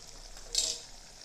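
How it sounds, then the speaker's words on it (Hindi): Tomato puree hits a pan of browned onions being cooked for matar paneer masala, giving one brief soft sizzling hiss over a faint steady frying background. "हमारे प्याज भुन चुके हैं, अब हम इसमें टमाटर की प्यूरी डाल देंगे।"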